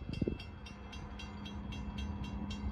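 A freight train rolls past at a grade crossing on Lake Avenue in Blasdell, New York, a steady rumble with rhythmic wheel clicks and a brief horn burst near the start.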